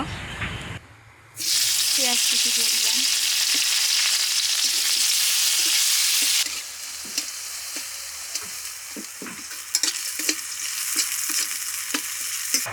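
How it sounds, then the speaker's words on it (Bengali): Fish pieces fry and are sautéed in a pan, a loud, dense sizzle that bursts in suddenly and holds for several seconds, then settles to a lower crackle with sharp pops and stirring clicks. "মাছগুলো আমি এখন হালকা করে ভেজে নিয়েছি মাছগুলো এখন কষিয়ে নেব"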